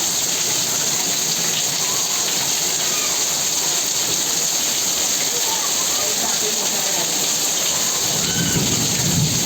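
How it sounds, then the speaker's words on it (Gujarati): Heavy rain pours down steadily in a close, dense roar, with rolling thunder underneath throughout. "જો ફૂલ વરસાદ આવે છે"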